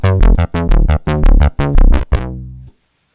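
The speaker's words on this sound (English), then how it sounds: "the Korg DSS-1 is giving me sounds that some of my purely analog synths would have a hard time with." Korg DSS-1 synthesizer plays five loud, punchy chord stabs in a quick rhythm, close and alone, the last one fading into silence.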